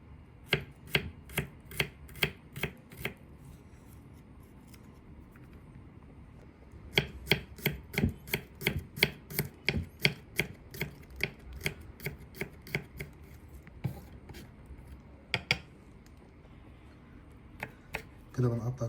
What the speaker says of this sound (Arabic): كده بنقطع الفلفل برضو سلايس زي ما احنا شايفين كده.